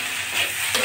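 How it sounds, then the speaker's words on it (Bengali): Potatoes and green chilies frying in a pan for Bengali alu chochchori, a steady close sizzle and hiss with a brief stir near the end. "আমি আরও কিছুক্ষণ ভাজি ভাজি করে নেব।"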